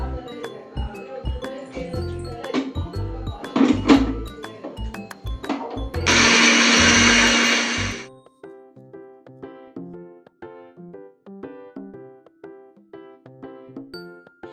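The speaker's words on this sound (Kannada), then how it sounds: "ಮ್ಯಾಂಗೋನ ಒಂದು ಬ್ಲೆಂಡರ್ಗೆ ಹಾಕ್ಕೊಂಡು ಫೈನಾಗಿ ಬ್ಲೆಂಡ್ ಮಾಡ್ಕೊಂಡು ಬರೋಣ." An electric blender purées mango for a mango cheesecake, a loud whirring burst lasting about two seconds in the middle, with light plucked background music before and after.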